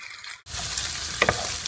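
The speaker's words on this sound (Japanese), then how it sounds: "オリーブオイルとニンニクのみじん切り、温まったところにウインナーを入れます" Sausages dropped into hot olive oil with minced garlic for spaghetti Napolitana, giving a sudden loud, steady sizzle after a short quiet gap, with a couple of brief spattering pops.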